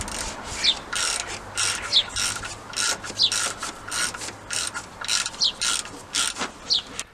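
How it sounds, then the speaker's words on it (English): A ratcheting T27 driver works loose the screw holding the inlet to the block on a BMW N54 engine, giving a steady run of close, crisp ratchet clicks in short repeated strokes, with no talk. "T27 to get out the screw that holds the inlet to the block"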